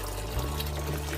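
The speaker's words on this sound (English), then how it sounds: "So I have to put warm water so that the beans will wash very fast." Warm water pours steadily over beans being washed for moi moi, a continuous close splashing rush with no voices.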